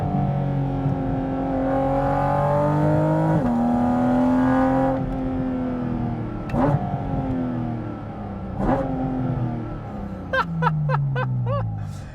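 A Porsche GT4 RS with a 4-liter flat-six engine revs hard and loud, pitch climbing through gears with brief shift breaks and crackles, then a rapid burst of sharp pops near the end.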